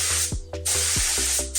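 Bursts of bar coat spray-coating an engine bay being prepped on a Ford Escort Cosworth / RS2000 Repsol replica, several close, loud hissing sprays with brief pauses between them.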